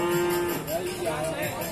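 Cattle low at an outdoor cattle market in Sokaraja, Banyumas, a steady drawn-out moo carrying over busy market background noise.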